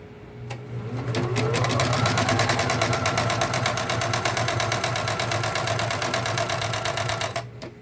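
A Bernina Deco650 embroidery machine stitches steadily with a fast, even mechanical chatter and rapid needle clicking. The sound stays close and loud for about seven seconds and then stops.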